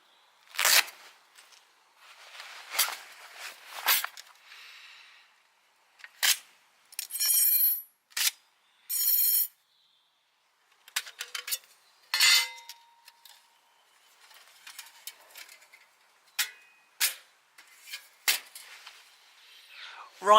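Camping gas stove being set up inside a folding firebox, with sparse metallic clinks, clatters and scrapes of metal parts handled close by, separated by quiet gaps.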